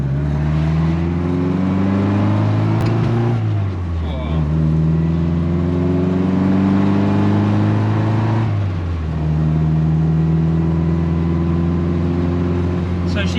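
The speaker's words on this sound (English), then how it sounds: "This car also comes standard with straight cut gears, so you'll probably hear them whining like now" A 1963 Mini accelerates through gears with a rising, whining drone from its straight cut gears, dipping at two shifts and climbing again, steady and close inside the cabin.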